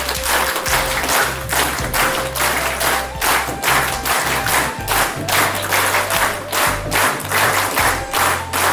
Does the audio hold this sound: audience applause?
yes